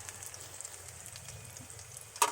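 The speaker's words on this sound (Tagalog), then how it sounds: "Fry until golden brown." Food frying in oil over low heat until golden brown, a soft steady sizzle running throughout, with one brief sharper clatter near the end.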